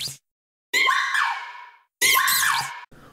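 Two video-game creature cries from Togedemaru and Mimikyu, each a bright, shrill squealing burst with bending pitch, the first longer and the second following after a short gap, loud and alone.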